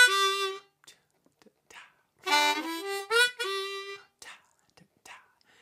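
A blues harmonica plays a short riff of sustained, reedy notes in separate phrases, with a quick upward bend into the three-hole draw before a final held note; it is close and moderately loud, with quiet gaps between phrases.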